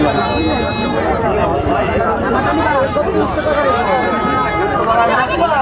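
Small goats bleat repeatedly at the Rupdia cattle and goat market in Bangladesh, with many voices chattering close by throughout.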